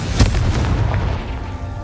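A Confringo spell blast in the video game Hogwarts Legacy: a deep booming explosion with a sharp onset and a rumbling, crackling tail, loud and close.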